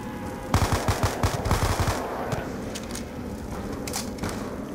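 Rapid machine gun fire in Call of Duty Black Ops 2 Zombies mode rattles in a dense burst for about a second and a half, then trails into scattered game noise and fainter shots.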